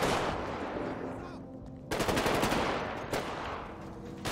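Automatic gunfire from the video game GTA 5 with a police mod, dense rapid bursts filling the clip with a brief lull and sharp renewed volleys, loud and continuous.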